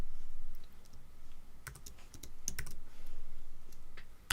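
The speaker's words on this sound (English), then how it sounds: "It's a UK keyboard." Keys clack on a UK-layout computer keyboard in short irregular bursts of typing, close and moderately loud, with quiet pauses between clusters of keystrokes.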